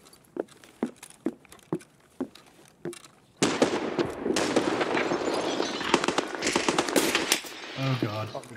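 Gunfire in Escape From Tarkov: a handful of single spaced shots give way to a loud, sustained burst of automatic fire that dominates the rest, with players' voices under and after it.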